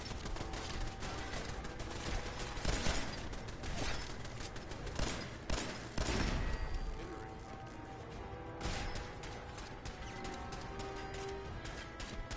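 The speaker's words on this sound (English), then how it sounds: "Everyone's shooting at me today." Gunfire in the video game Fallout 4 comes as bursts of rapid shots and impacts, dense clusters, then a quieter stretch with scattered reports, while a voice talks faintly.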